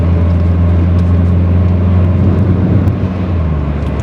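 Steady hum of a Mitsubishi 1.5 litre car with a conventional automatic gearbox under way, a continuous low engine drone with a slight shift in tone near the end as it changes up a gear.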